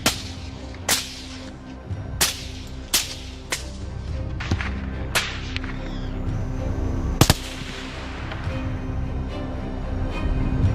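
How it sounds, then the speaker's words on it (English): Sharp rifle shots crack out one after another at irregular intervals during a wild boar hunt at night, loud and close, with faint rumble between them. "in the dark, I quietly opened fire, taking down each target."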